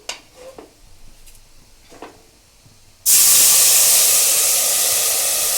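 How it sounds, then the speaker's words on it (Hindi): After a few faint clatters, water hits a hot pan of browned broken wheat and erupts into a loud, sustained hissing sizzle that slowly settles. "अब मैं इतना गहरा रंग आने के बाद इसमें पानी डालूंगी।"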